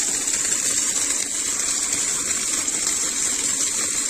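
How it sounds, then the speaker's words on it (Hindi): Water rushes steadily through the drip irrigation pipes of a kinnow orchard near a pressure gauge, a constant, close, hissing gush with no breaks and no speech. "तो पानी स्टार्ट हो चुका है"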